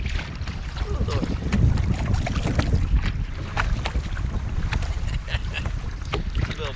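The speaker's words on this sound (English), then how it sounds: "It said it was gonna be like a 5 to 6 mile an hour wind. It's more like 15 miles an hour sustained." Strong sustained wind of around 15 mph buffets the microphone on a Hobie Compass kayak out on the Napa River, with choppy water slapping the hull in a loud, continuous rumble and no speech.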